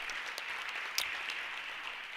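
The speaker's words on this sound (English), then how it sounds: "Can we give them a big round of applause" Audience applause at a school safety forum run by a security PTO, a steady wash of clapping with one sharper clap near the middle, moderately faint and heard alone.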